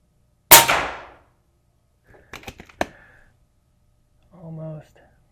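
An airgun fires a pellet at a row of nails, making one sharp loud crack that rings off briefly, followed by a few small metallic clicks and a short voiced sound.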